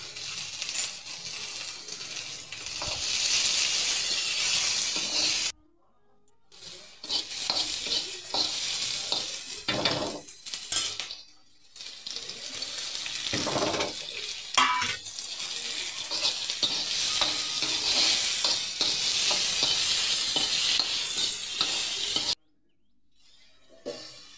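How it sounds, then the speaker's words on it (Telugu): Onions, green chillies and tomato pieces fry in a pan with a continuous sizzle and frequent stirring scrapes, broken by two brief silent gaps; no talking. "దాంట్లోనే టమాటా ముక్కలు కూడా వేసి మెత్తగా కొంచెం ఉడికేంత వరకు వేయించుకోవాలండి"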